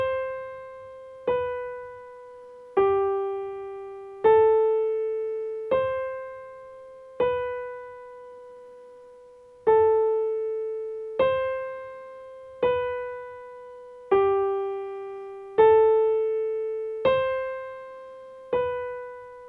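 Right-hand part of a piece on piano, a single repeated note pattern struck at a slow, even pace, each note ringing and decaying cleanly, close and alone.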